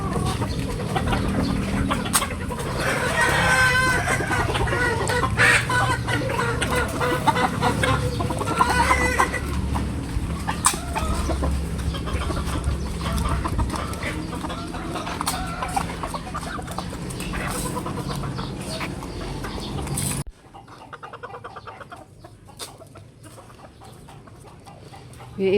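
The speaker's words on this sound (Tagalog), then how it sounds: "Tandang at saka inahin." Roosters and hens cluck and cackle steadily in a farmyard, with occasional louder calls over a busy background; the flock sound drops noticeably quieter near the end.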